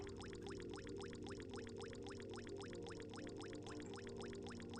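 Water in the video game Yume 2kki, heard as a rapid, steady run of plipping, ploppy droplets repeating evenly throughout, quiet and alone.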